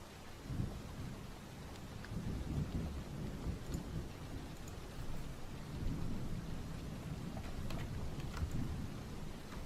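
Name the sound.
played recording of rain and thunder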